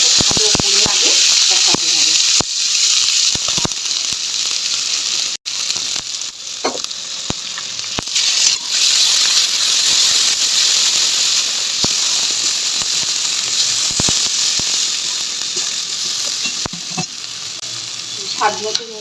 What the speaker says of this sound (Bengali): হলুদ সব দিয়ে ভালো করে আগে কষাতে হবে।